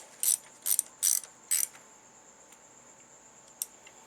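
A ratchet wrench tightening a bolt on a Honda Accord 2.2L/2.3L engine during a timing belt job, four quick clicking bursts close by, then a quieter lone click against a faint background hum.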